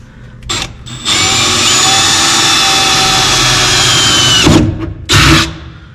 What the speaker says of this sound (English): We're going to drill one hole and make sure it lines up with our bracket underneath.